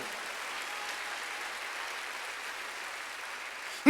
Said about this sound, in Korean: 박수로 하나 더 했어요